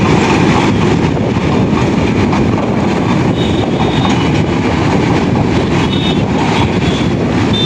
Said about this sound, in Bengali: এর মধ্যে একটি ট্রেন না যেতে না যেতে চলে আসলো আরেকটি ট্রেন।